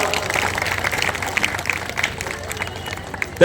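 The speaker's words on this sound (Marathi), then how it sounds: "जोरदार टाळ्या वाजवा." Dense, steady clapping from a large crowd at a BJP public rally in Anjangaon Surji, sustained throughout with a brief louder burst at the very end.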